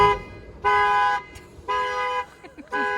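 A 2021 RAM TRX pickup gives short horn chirps on unlocking, two or three clear honks spaced apart, followed by faint clicks, with no talking heard.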